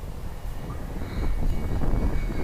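Engine drone of an RC Big Stik 40 model airplane flying in gusty 25 mph wind, a steady rough buzz at middle distance that swells slightly louder partway through.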